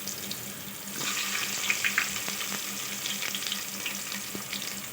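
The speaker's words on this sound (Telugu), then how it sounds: "కొంచెం ఆయిల్ వేడి అయిన తర్వాత ఉల్లిపాయ ముక్కల్ని చిన్నగా కట్ చేసుకొని వేసుకోవాలి" Chopped onions dropped into hot ghee and oil for egg biryani, a steady bubbling sizzle rising after the first second and holding fairly loud, with faint clinks, no talk.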